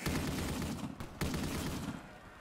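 Sustained Death Machine minigun fire in Black Ops 3 Zombies on the Toy Time Galaxy map, a continuous loud roaring stream of rounds with a brief gap partway, no voices.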